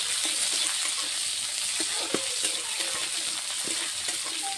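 Onions fry in hot oil with cumin and mustard seeds, giving a steady close hiss with occasional soft pops and stirring clicks, no talk.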